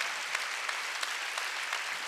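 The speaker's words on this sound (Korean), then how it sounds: "박수 치려면 지금 말이야" Congregation applause during a church worship service, a soft, steady patter of many hands with a few sharper claps standing out, fairly distant and even.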